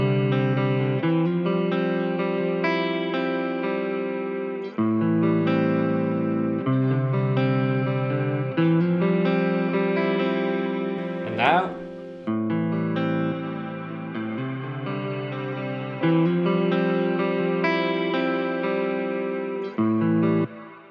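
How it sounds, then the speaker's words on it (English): Sustained chords from a clean music track, with a reverb effect added, ring out loud and continuous in long blended tones, broken by a short sweeping burst near the middle. "I have a clean track and a reverb track"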